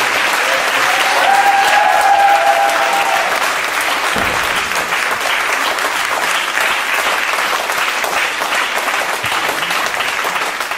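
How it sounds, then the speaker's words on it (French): A crowd applauds steadily for about ten seconds, dense clapping that stays loud throughout. "je pense que ça mérite quand même quelques applaudissements"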